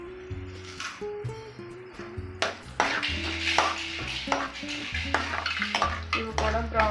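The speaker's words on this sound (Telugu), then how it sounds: "ఇవి కూడా బ్రౌన్ కలర్లో వచ్చే వరకు ఫ్రై చేసుకోవాలి" Chana dal and urad dal fry with garlic in oil, a close sizzle under repeated metallic clinks and scrapes of a spoon against the pan, with faint tonal ringing and no speech.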